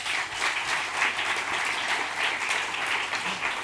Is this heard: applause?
yes